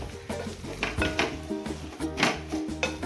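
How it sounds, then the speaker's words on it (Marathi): A spoon scrapes and knocks in a pan while carrot halwa with cashews and almonds is stirred, making quick repeated strokes in an uneven rhythm close by. "आता हे पण एकदा चांगले मिक्स करून घेऊ आपण।"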